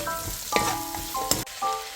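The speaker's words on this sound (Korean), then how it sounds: "소금이든 맛소금을 이렇게 넣어가지고 달달 이렇게 볶아주면 됩니다" Sundae (Korean blood sausage) being stir-fried with sugar and salt in a home kitchen, giving a steady close sizzle broken by scraping stirs and a couple of sharp utensil clacks against the pan.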